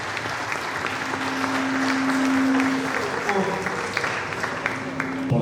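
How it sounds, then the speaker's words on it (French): Applause for the women at a Réveil church gathering, a steady wash of clapping held at a fairly even level through the whole stretch, with a sustained tone and background voices running underneath. "Applaudissements pour les femmes."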